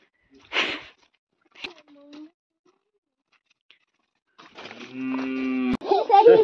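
A goat at a home in Spiti Valley gives a few short calls and then a long, loud, wavering bleat close by, with scattered voices around it.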